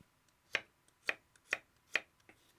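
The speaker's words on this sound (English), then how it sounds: "I got 3 cloves of garlic, and I'm just going to kind of slice them up" A knife slices through garlic cloves on a cutting board, giving four crisp, evenly spaced chops, close and fairly quiet, with no talking.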